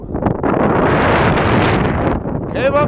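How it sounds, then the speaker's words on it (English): Strong wind roars and buffets the microphone on the cold summit ridge of Mount Yale in the Colorado Rockies, a continuous loud rush, with a faint voice at the very end. "it is windy and cold"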